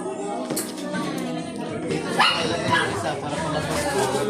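Several dogs bark and yip over steady chatter of people talking nearby, with a busy household gathering going on around them and the barks mixed into the noise rather than standing alone.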